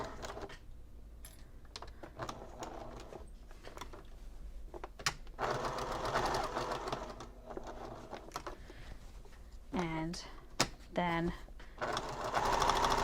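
A sewing machine stitches a braided boho bag, its rapid stitching speeding up and slowing down in bursts as the stitch length shifts between 2.5 and 1, heard close with some faint voice-like tones.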